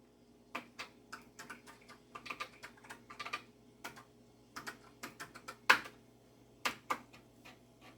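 Irregular keystrokes on a worn-out, failing NEC PC-8801mkIIFR computer keyboard while playing the text adventure Zork, fairly close and sparse, with scattered clacks and a few sharper hits.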